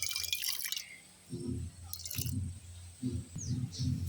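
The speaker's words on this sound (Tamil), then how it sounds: "ஒரு 1/4 சில்வர் அளவுக்கு தண்ணி விடுறேன்." Water pours into a cooking pan in short bursts, about a quarter cup each, splashing and gurgling close by, with brief pauses between pours.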